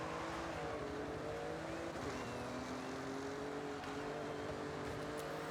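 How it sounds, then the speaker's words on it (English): A BMW engine in Forza Horizon 6 drones at a steady, loud pitch throughout, with sustained harmonic tones rising slightly as the car drives, alone without talk. "BMW doesn't sound too bad."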